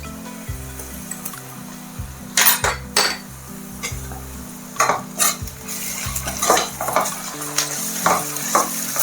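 Onions frying in a pan with ginger garlic paste for an arvi (taro root) curry, stirred with a spoon: scraping clinks and knocks of utensil on the pan come in irregular bursts over a steady sizzle, close up, with no talking.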